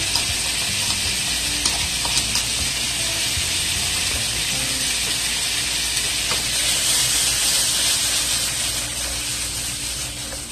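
Onions and garlic fry in a hot pan for Jamaican curry scallops, giving a loud, steady, hissing sizzle with faint crackles that continues throughout, close up and without speech.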